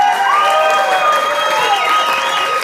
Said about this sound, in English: Please, go ahead, clap.